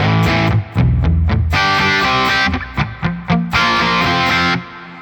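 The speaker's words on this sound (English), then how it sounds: "If I turn off the reverb real quick, it gets to be a pretty good rhythm sound." An electric guitar played through a Matchless Chieftain amp model on a Quad Cortex with the reverb turned off gives loud, crunchy, distorted rhythm chords with tight stops and brief gaps before ringing out.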